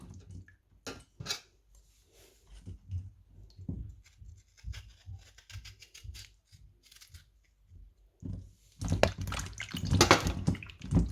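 Cut green plantain washed by hand in water in a home kitchen, with intermittent splashes, drips and clinks that build to louder sloshing near the end, no talk.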